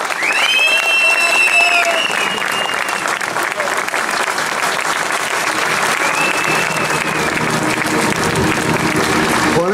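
Sustained applause from an audience at a Greek mayoral statement event, steady broadband clapping filling the whole stretch at close range, with some voices mixed in.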